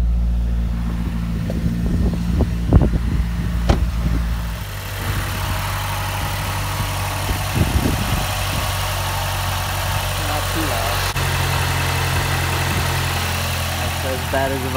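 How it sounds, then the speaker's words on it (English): A Mazdaspeed 3 with a rear motor mount installed idles nearby, giving a steady low rumble with a faint vibrating drone that holds throughout. "It is a little bit louder with the rear motor mount installed with the passenger."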